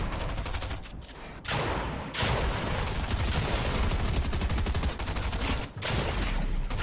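Rapid, sustained gunfire in Fortnite during a competitive duo cash cup match: dense, loud automatic bursts that fill nearly the whole stretch, with only a few brief gaps.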